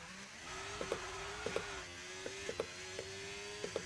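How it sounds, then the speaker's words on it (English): An F1 25 race car in a video game holds a steady, buzzing engine note with repeated sharp spikes and flutters as the revs shift, fairly quiet and with no talk. "I love the sound of the engine when you're coming off the limit of this game."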